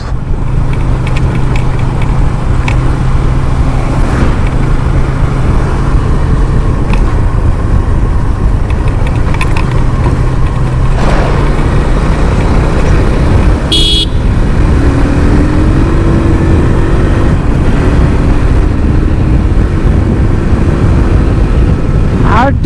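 A motorcycle rides along an expressway under a hot sun, with loud, steady engine and wind roar throughout, a rising engine tone, and brief horn toots from passing traffic.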